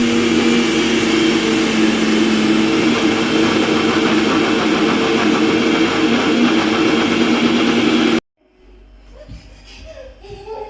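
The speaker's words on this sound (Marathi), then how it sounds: "सर्वप्रथम साईला मिक्सरमध्ये फिरवून त्याचे लोणी बनवून घ्यायचे आहे" A kitchen mixer grinder churns cream with a little water into butter, a loud, steady whirring roar that runs continuously before cutting off abruptly, leaving faint background sounds.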